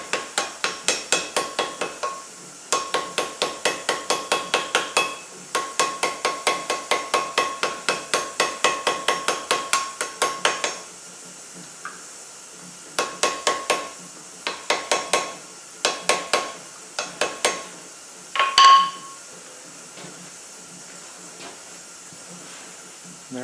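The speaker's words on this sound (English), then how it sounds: "So we're going to lightly peen that with a ball peen to close that hole up." A ball peen hammer lightly peens a forged steel pecan, striking in fast rhythmic bursts of close, ringing metallic taps separated by short pauses, with one heavier blow near the end.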